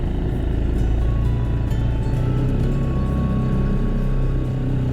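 A boat motor in Jamaica running steadily after starting on one crank, a loud continuous low engine drone with water and wind noise, no talking.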